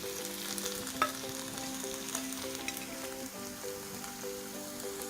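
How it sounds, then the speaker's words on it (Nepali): Chopped eggplant with cumin, coriander powder and Kashmiri red chili powder sizzles steadily in a hot pan, an even frying hiss with scattered pops and light stirring scrapes, close and alone. "त्यसैगरी यसमा मैले राखेँ काटेको बैगुन।"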